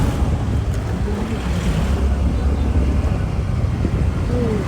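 Steady wind roars loudly across the microphone on a solo scooter ride near Ranikot, Bhaktapur, a continuous low buffeting rush that fills the whole stretch.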